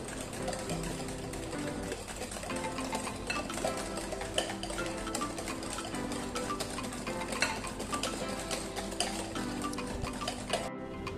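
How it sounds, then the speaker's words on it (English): A whisk beating brownie batter flavoured with salt and chocolate essence in a bowl, giving a steady, continuous rapid ticking and scraping rhythm at close range for the whole stretch, with no voice over it. "half teaspoon of chocolate essence, and we'll again whisk this nicely"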